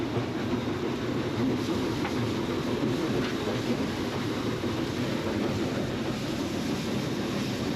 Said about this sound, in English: Now the engine's working really hard.